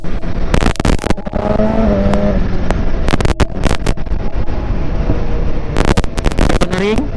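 A BMW S1000RR sport motorcycle engine while cornering on a test ride, a loud, sustained engine roar with pitch shifting up and down under heavy wind buffeting and sharp noise bursts.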